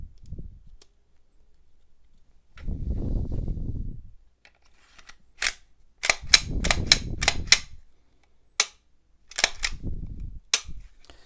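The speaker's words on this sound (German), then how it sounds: "kann ich die Pistole direkt schon wieder zusammensetzen" Metallic snaps and clicks of a Glock pistol being reassembled after oiling: a series of sharp, close clacks, several bunched together, with lower handling noise in between.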